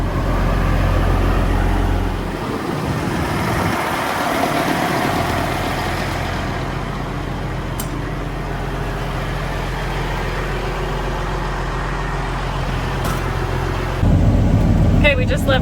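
Diesel car hauler converted into an RV, driving on the road, gives a loud, steady low engine drone and road rumble throughout, with people talking over it inside the cab.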